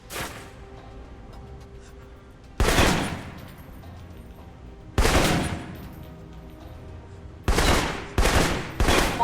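Assault rifle gunfire in the video game Alpha Protocol: four sharp, loud bursts of automatic fire, spaced a couple of seconds apart over a low steady game ambience, with no talking.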